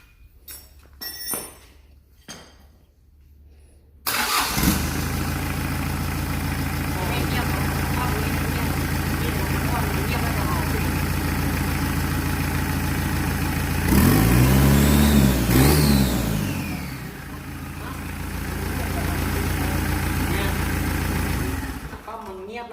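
A rough-running engine that is smoking, idling unevenly, then revving up and settling, close and fairly loud, with someone talking over it.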